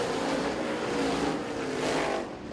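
ISMA-MSS supermodified race cars roar around the Lancaster Motorplex track, a loud continuous engine drone that swells and fades as the cars pass, with no voices heard.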